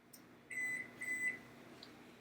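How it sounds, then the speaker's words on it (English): A kitchen oven timer being set to 30 minutes chirps with two short, thin electronic beeps in quick succession, followed by a fainter blip over a low room hum. "I'll set the timer for 30 minutes"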